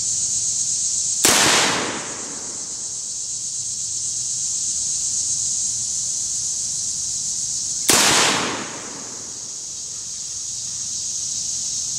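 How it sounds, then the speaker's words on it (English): Two sharp rifle reports from an LWRC M6 A2 at an outdoor range, spaced several seconds apart, each with a short decaying echo over a steady background drone of insects. "Alright, so we took 3 shots."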